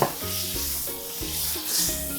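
Butter is added to a hot pan while searing a sous vide steak, producing a bright continuous sizzle. Low tonal hums run beneath it.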